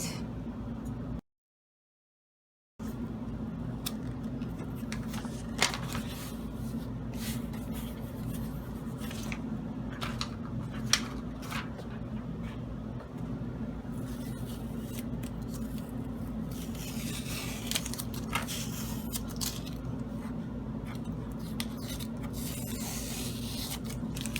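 Scissors cutting through a UV DTF sticker sheet, a steady run of soft snipping and rubbing scrapes over a low hum, close and quiet, with one brief silent gap near the start.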